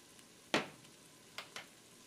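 Onions with sugar and salt stirred in a pan: one clear scrape and sizzle followed by two quicker, fainter stirring strokes, close and quiet with no talk.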